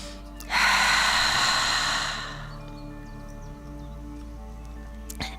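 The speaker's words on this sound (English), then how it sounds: "Take your time to take a few more deep breaths in and out." A single long, airy exhale that lingers and fades, close and clear during a yoga session in a park, with a quiet background afterward and no talking.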